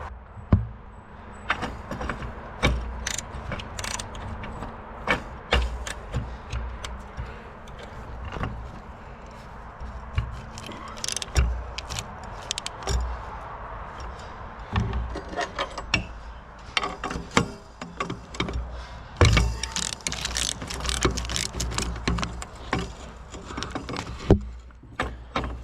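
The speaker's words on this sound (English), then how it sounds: "I'm hoping now I can just slip a 24mm socket in there and undo it without pulling it" A 24mm socket wrench works a bolt loose on a Yanmar excavator, making scattered metallic clicks and ratcheting taps with short bursts of handling noise, close up and irregular, over a low background rumble.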